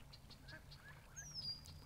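Ducks at a lake give a few faint, distant quacks over low background hum, with a thin high whistle near the end.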